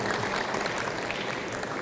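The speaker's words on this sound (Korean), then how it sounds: "다시 한번 교수님께 따뜻한 박수 보내주시기 바랍니다" Steady applause from a seminar audience for a professor after a Q&A, a dense wash of clapping throughout the short moment.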